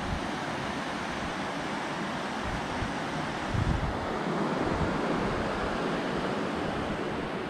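Steady broadband rush of a creek flowing beside a forest trail in Gifford Pinchot National Forest, Washington, a continuous close water wash with wind-like noise and a brief louder surge partway through.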